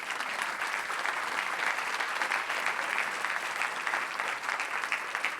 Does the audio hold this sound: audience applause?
yes